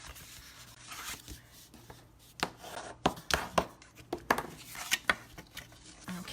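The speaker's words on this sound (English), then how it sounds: "I'm going to use my bone folder and fold and score all my lines" A bone folder scoring, folding and burnishing lines on a paper sheet for a one-sheet box, heard as close, irregular scraping and tapping strokes on a table in a quiet room.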